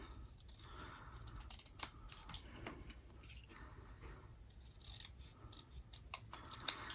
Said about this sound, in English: So we will cut these in half.